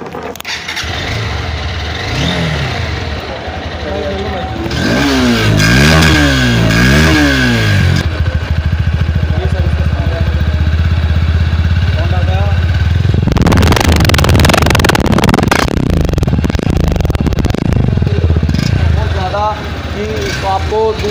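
Honda CB200X motorcycle starting up and idling, a loud, close exhaust with throaty revs in bursts. Someone talks over the engine at times.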